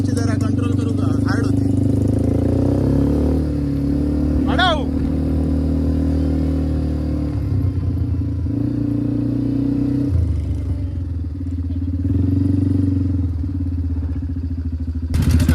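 An ATV is driven at an adventure park, its engine droning loud and steady with shifting revs, while people talk over the motor.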